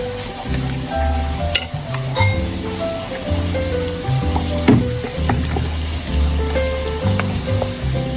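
Minced chicken sautés in a hot pan for chicken sotanghon soup, a steady close sizzle with spatula scrapes and stirring clatter, one sharp clank partway through.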